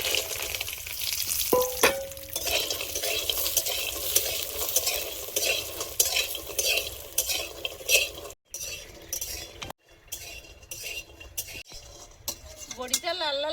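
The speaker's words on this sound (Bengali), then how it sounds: "বড়িগুলো ভেজে নেব।" Homemade sun-dried lentil dumplings (bori) frying in oil in a pan, a steady close sizzle with repeated stirring scrapes and clinks of a metal utensil against the pan, briefly pausing twice.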